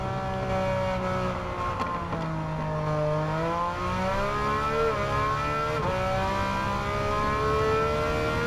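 Porsche 911 with about 500 horsepower driven without traction control in Gran Turismo 7, its engine droning steadily and rising and dipping in pitch through gear changes, loud and continuous.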